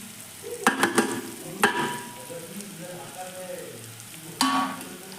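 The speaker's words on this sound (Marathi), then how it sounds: "ऑलमोस्ट कांदा आता भाजत आला आहे। त्यावर मीठ, हळद व मसाले टाकून घेऊया।" Onion frying in a pan with salt, turmeric and spices being added, a steady close sizzle broken by a few sharp clatters and stirring knocks, with a brief murmur of voice.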